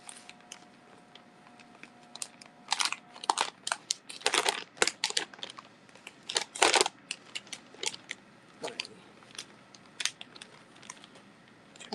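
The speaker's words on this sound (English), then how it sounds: "Sorry for all the crinkling." Craft ephemera packaging crinkles and crackles close to the microphone in irregular bursts of plastic and paper rustling, with a faint tone in the background early on.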